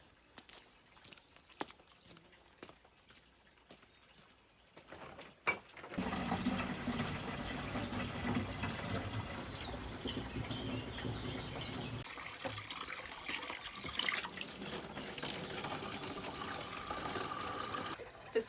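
Spring water at a countryside spring in Portugal pours steadily into containers, a continuous splashing flow that starts after a few quiet seconds and stays moderately loud.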